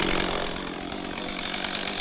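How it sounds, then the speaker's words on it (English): A chainsaw bites steadily into wood during forest firefighting work, a loud, continuous buzzing whine that holds for two seconds with no talk. "And you grab that chainsaw, you mold onto it."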